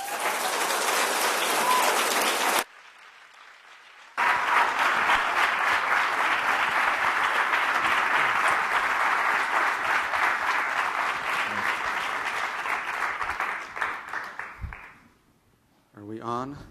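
An audience at a talk applauds to welcome two speakers, a dense sustained roar of many clapping hands filling the room, fading out near the end before a voice briefly speaks.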